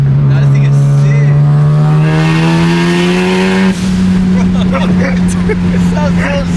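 A right-hand-drive JDM sports car engine revs hard from inside the cabin, its pitch climbing steadily through a gear before a shift and a renewed pull, loud and close with road noise underneath.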